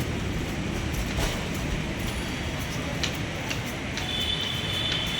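A Thakurpukur metro train running, a steady broadband rumble and rolling hum throughout with faint clicks and a thin high whine near the end.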